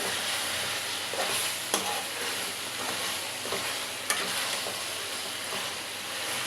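Goat meat sizzling and frying in a hot pan, a steady crackling hiss with occasional stirring scrapes and clinks.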